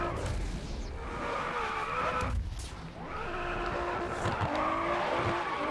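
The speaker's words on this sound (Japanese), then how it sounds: "ドリフトじゃないぞ、ただのスピンだ俺のは" A 2003 Nissan Silvia's tires squeal in long wavering skids as the car spins out in GRID Autosport, with the engine droning and revving underneath, loud and close.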